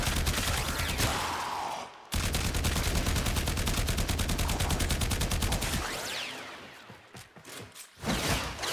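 Rapid automatic gunfire in the video game Warframe, a dense sustained burst of shots, loud and close, with brief gaps and a few scattered shots at the end.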